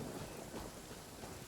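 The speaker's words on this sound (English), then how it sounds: "Uh-oh! Lightning storm!" A lightning storm in Genshin Impact, with dense steady rain hiss and low rumbling thunder filling the scene throughout.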